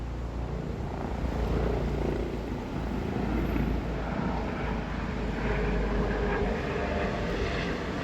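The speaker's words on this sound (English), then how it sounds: "a helicopter flies overhead" A steady, loud rotor-like rumble of a helicopter drones continuously overhead in Stockholm, unchanging for several seconds with no talking.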